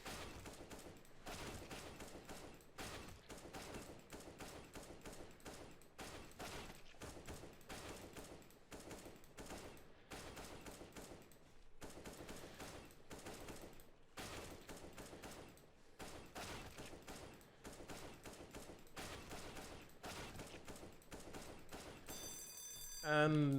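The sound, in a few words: gunfire shooting bots in video game CS:GO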